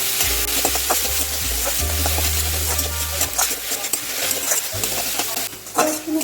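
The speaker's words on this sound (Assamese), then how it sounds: "নিমখ মই পিঁয়াজটো হাই ফ্লেমতে ৰাখিছোঁ।" Sliced onion sizzles on high flame in a pan for a jackfruit curry, a loud continuous crackling fry with occasional scrapes and stirs of a utensil.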